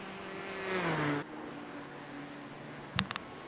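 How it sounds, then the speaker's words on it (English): LMP1 prototype race cars in an endurance racing game at Monza, engines whining loudly as they close in from behind, the pitch falling as they pass within about a second, followed by steady quieter engine drone and a few brief clicks. "LMP1s coming up behind you"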